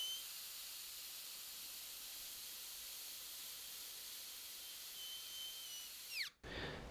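An airbrush hisses steadily while lure paint of 40-30 base and pigment with no reducer is mixed and backflushed, a constant loud spray that cuts off abruptly near the end after a brief squeak.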